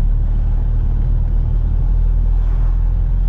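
A Chevrolet S10 pickup truck cruises in fourth gear at about 40 km/h, giving a steady, loud low engine drone and rumble heard from inside the cab, with no talk.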